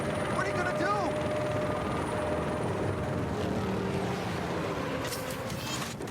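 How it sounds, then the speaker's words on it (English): An attack helicopter in Batman: Arkham Knight thrums with a steady rotor and engine roar throughout, mixed with game effects and a voice talking over it. "He's got an attack chopper!"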